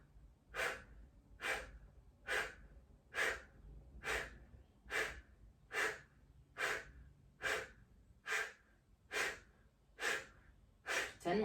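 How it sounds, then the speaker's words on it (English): Kapalbhati fire breathing: a steady series of about thirteen short, sharp exhales, each pumped from the belly, evenly spaced under a second apart, close and fairly quiet with no talk. "I'm going to blow the air out the mouth and make short, small snaps with the belly, pumping the belly and fire breathing."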